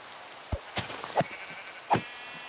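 Sheep in a video game bleat in three or four short, separate calls over about two seconds against a quiet background.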